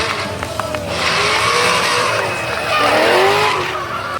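Drift cars at a DMCC drift competition round in Mirabel roar past with loud revving engines and squealing, skidding tires, the noise swelling twice as they pass close by.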